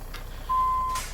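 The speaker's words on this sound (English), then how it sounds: "Let's listen to that N14. I love this engine." In a trucking video game, a Cummins N14 engine in a Kenworth W900A idles low and steady while a single reversing beep sounds about halfway through.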